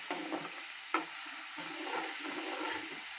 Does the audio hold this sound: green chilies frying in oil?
yes